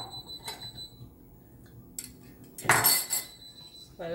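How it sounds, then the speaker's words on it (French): A utensil clinks and scrapes against a bowl while bean fritter batter of flour, salt and sugar is mixed, producing a few sharp metallic taps and one louder rattling scrape, with no talk. "Voilà, je mélange d'abord."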